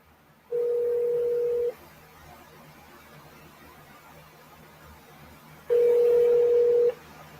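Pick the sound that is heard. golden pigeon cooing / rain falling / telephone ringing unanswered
telephone ringing unanswered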